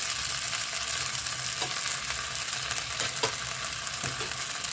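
Gujarati handvo, a savoury batter cake, frying in oil in a pan as it is flipped, a steady close sizzle with a few soft scraping bumps and no voices.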